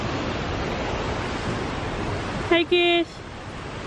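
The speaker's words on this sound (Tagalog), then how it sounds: "lapit tayo dito sa falls" Öxarárfoss waterfall at Thingvellir, Iceland, gives a steady broadband roar that fills the whole stretch, with a short burst of talking near the end.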